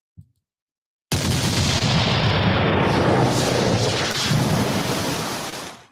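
A deep, booming blast erupts after a brief silence and rolls on as a long, rumbling roar that slowly fades, like a cannon shot effect.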